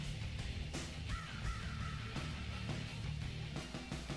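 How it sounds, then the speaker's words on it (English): Crows cawing in an evening outdoor setting, repeated harsh calls spread across a steady background hum, moderately distant and not very loud. "You're just in time to listen to the crows."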